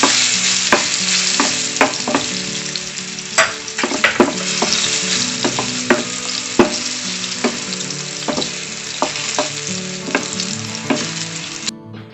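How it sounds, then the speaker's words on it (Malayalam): Banana pieces fry in ghee for a Kerala vermicelli ada, giving a loud, continuous sizzle. Close, sharp clatters of stirring punctuate it at irregular intervals, and no voices are heard. "ആ നെയ്യിലോട്ട് തന്നെ നമ്മൾ ഈ പഴനുറുക്കും കൂടെ ഇടുവാണ്."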